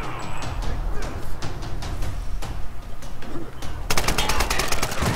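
Rapid gunfire erupts in a Tomb Raider (2013) shootout, with repeated sharp shots spread through the clip and a dense automatic burst near the end, set against a busy game soundscape.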